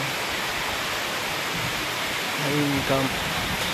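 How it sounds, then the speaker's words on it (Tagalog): At a campsite, heavy rain makes a dense, constant hiss of broadband noise. A voice speaks quietly under it near the end. "Heavy rain."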